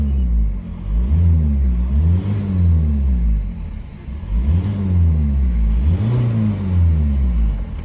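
A 2005 Volkswagen Jetta TDI diesel engine runs loud and close, its deep rumbling idle rising into several revs that swell and fall back again, with no voices.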